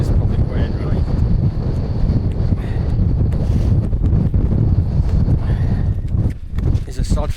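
Strong gusts buffet the microphone at a wild camp beside Scandale Tarn, a continuous loud low roar through the whole stretch with a brief lull near the end.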